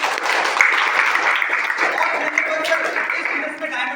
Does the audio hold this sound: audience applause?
yes